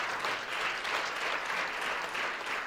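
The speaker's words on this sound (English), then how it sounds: "But round of applause for the visual effects" Audience applause at a digital analytics panel discussion, a dense, even wash of many hands clapping, sustained and steady at a moderate distance.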